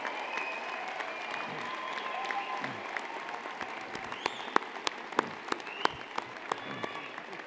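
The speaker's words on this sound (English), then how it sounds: "Wave and cheer, make some noise," Graduates at a University of Calgary convocation ceremony cheering and applauding, a sustained dense wash of crowd clapping with scattered whoops and louder individual claps popping out over the steady roar.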